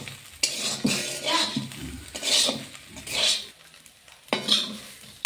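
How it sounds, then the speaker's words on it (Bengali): Soaked soybeans frying in a little oil in a pan, sizzling steadily while a utensil stirs and scrapes the pan in repeated strokes, close and alone. "সেই সোয়াবিনগুলো আমি হালকা তেল দিয়ে আগে ভেজে নিয়েছি ভালোভাবে"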